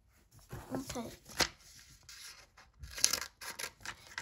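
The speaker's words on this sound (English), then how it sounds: "So we're gonna use our scissors and cut it." Scissors snip through paper in a few short crisp cuts, close by, with a person talking quietly in between.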